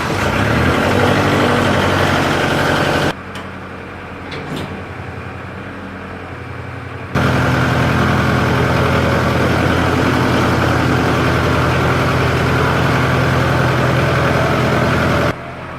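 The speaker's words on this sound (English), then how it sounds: "I'm gonna pull the tractor out" A tractor engine idles in a garage with a steady, loud, low rumble that drops in level for a few seconds before returning at full strength.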